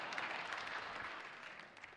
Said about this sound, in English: I'll take applause there